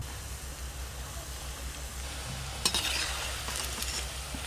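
Nadu sweets for Lakshmi puja fry gently on low heat, giving a soft, even sizzle over a low hum, with a brief cluster of utensil clinks and stirring partway through.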